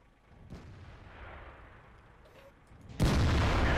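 Tank gun firing in World of Tanks: a faint distant boom early on under quiet battle ambience, then a loud, close cannon blast near the end that holds as a sustained roar.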